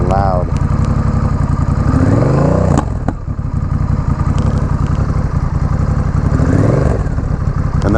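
A Honda Rebel 1100 motorcycle engine runs with no muffler, loud and close, its throaty idle rising into two revving surges with a rattling exhaust, while someone talks over it.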